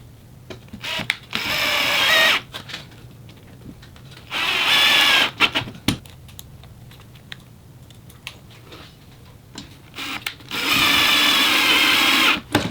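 A power drill drives short screws into an MFT-style worktable top in three separate loud whirring bursts with quiet pauses and small clicks between them.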